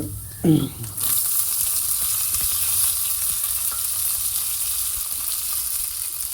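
Onions, curry leaves and green chillies sizzle loudly in hot oil for semiya upma, a steady bright frying hiss that jumps up after a brief stir clatter at the start and holds evenly to the end.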